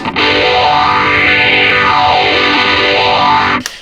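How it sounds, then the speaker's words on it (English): A sustained electric guitar chord through an overdrive pedal with a Phase 90 phaser rings loud and thick with mid-heavy tone and a sweeping, phaser-like movement, then cuts off abruptly at the end. "The overdrive has more of a mid content to it"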